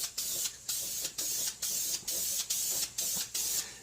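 A hardware-store spray can of bright red paint hisses in about nine short, even bursts as it coats ATV plastic parts, close and loud with brief gaps between sprays.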